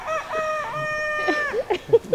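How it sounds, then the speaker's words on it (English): A young rooster gives a thin, wavering crow, held and then breaking off, followed by a few short clucks close by. "the new roosters are still they're learning how to crow"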